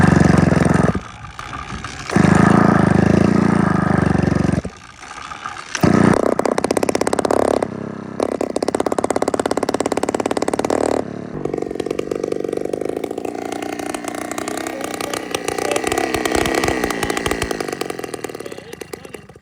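A Minarelli engine, started for the first time with no exhaust fitted, revs loud and raw in harsh bursts, cutting out briefly between pulls before settling into a sustained, uneven buzzing idle.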